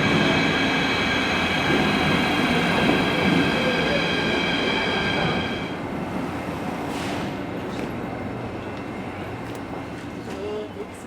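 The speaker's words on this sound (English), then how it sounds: "train's coming" An Athens metro train rolls into an underground station with a loud rumble, a high squeal of wheels and brakes that fades midway, then settles into a quieter hum as it stops; voices talk faintly.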